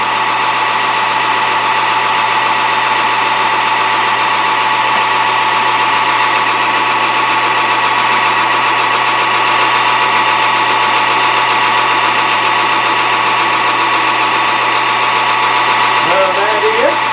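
A lathe facing off a tailstock handle extension gives a constant mechanical hum and whine that holds steady and loud for the whole stretch, with no pauses.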